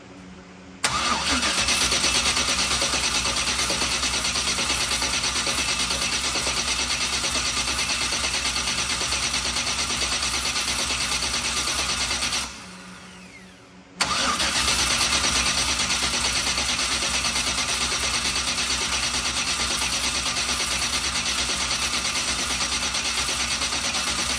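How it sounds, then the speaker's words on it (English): A car engine cranks steadily on the starter with the injectors disconnected, a loud continuous churning drone that runs about twelve seconds, drops out briefly, then resumes just as strongly. "we're gonna crank it for 15 seconds to build up oil pressure"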